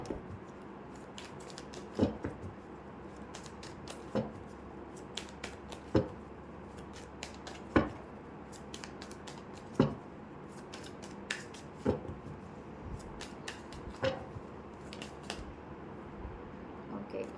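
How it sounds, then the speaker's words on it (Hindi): Tarot cards being shuffled by hand, soft and close, with regular sharp snaps about every two seconds over a quiet rustle, no talking. "मैं तब तक आपके लिए कार्ड शफल कर लेती हूँ"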